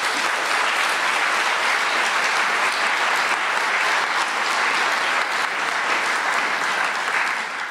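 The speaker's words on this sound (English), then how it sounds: "we show you our gratitude with this exceptionally brave new round of applause." Sustained studio audience applause for a radio quiz heat, dense even clapping throughout at steady moderate level with no voices.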